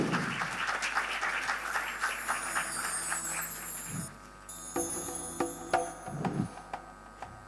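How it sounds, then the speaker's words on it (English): An audience at a foundation day celebration claps in welcome, loud and continuous at first, then thinning into scattered, uneven claps and small noises toward the end. "Please welcome Mr. Anant Ranjan with a rousing round of applause."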